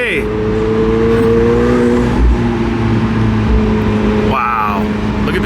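A McLaren 720S sports car drives fast with a loud engine that rises and holds in pitch, and a person talks excitedly over it.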